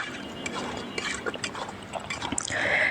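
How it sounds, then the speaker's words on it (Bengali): Goat meat stirred and fried in a pan, with close, wet sizzling and bubbling broken by frequent spatula scrapes and clicks, building to a denser sizzle at the end. "মাংসটা আমি নাড়াচাড়া করে ভালো করে কষিয়ে নিচ্ছি।"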